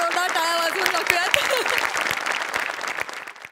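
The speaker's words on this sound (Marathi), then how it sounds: "समोर बसलेल्या प्रेक्षकांसाठी पण एकदा जोरदार टाळ्या वाजवून टाकूयात" A studio audience at a Marathi comedy show breaks into loud, sustained clapping that slowly thins out, following a brief stretch of a voice speaking.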